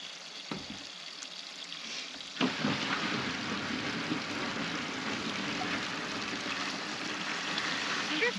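Water running out of a house downspout, a steady hissing rush and splash that grows slightly louder after a couple of seconds and then continues evenly throughout, with no talk.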